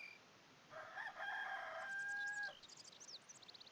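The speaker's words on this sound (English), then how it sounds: "Now we get to hear the rooster everywhere we go." A rooster in the video game Dark Cloud gives one long, loud cock-a-doodle-doo, followed by softer clucks and chirps over a quiet background.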